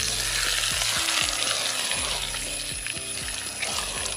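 Erissery, a thick Kerala dish for an Onam sadhya, frying in a pan while being stirred, with a steady close sizzle and repeated scraping strokes of a spoon against the metal throughout.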